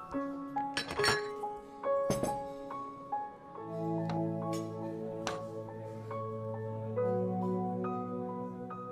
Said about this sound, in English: Kalia, our number pe do glass laga rahe